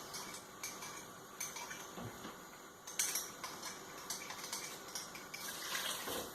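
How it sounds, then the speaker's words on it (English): A spoon stirs a stock cube into hot water in a kitchen while making red pepper and tomato soup, clinking and scraping against the container in irregular taps, close and fairly quiet, with no talking. "I'm going to give the stock cube a bit of a stir round in the hot water"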